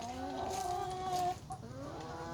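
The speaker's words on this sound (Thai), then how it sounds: "อันนี้เป็นไก่ไข่ยี่สิบตัวนะคะ" Twenty young laying hens in a backyard coop in Ayutthaya, Thailand, clucking and calling steadily and close by, with a brief pause before the calls resume, no talk over them.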